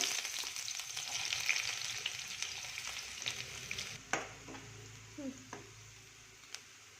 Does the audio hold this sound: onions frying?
yes